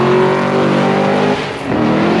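A sports car at a car meet revs loudly and close, a dense engine roar with a thin rising whine over it, dipping briefly before surging again.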